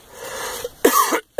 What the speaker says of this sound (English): Big cough going around here.